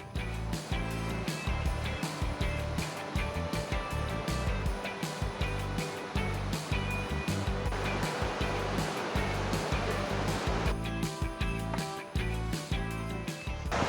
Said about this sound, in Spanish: Acá abajo tenemos el arroyo Johnstone y por acá ya se está empezando a formar el cañón.